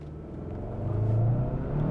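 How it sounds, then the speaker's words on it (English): Engine of a 2022 Hyundai Santa Cruz Ultimate with a dual-clutch gearbox revs up from inside the cabin on a night drive, a low droning rumble that rises steadily in pitch and loudness. "Takes a while to get the revs up."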